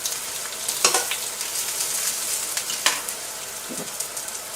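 Aubergines sizzle and crackle in hot oil in a pan, a steady frying hiss broken by a few sharp pops and spatters.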